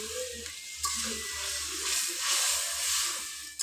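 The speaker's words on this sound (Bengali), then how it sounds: "এবার লাউ মুগ ঢেলে দিলাম।" Bottle gourd and mung dal hit hot oil spiced with cumin and ginger, setting off a loud, steady hiss and sizzle that swells and settles over several seconds, with no talking.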